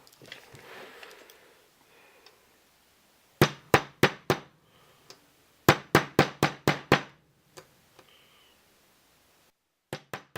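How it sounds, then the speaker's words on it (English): A hammer tapping a punch to drive pins out of a gas blowback airsoft pistol magazine: sharp close metallic strikes in quick bursts of four and six, with quiet gaps and faint rustling between. "And I'll do this with a hammer."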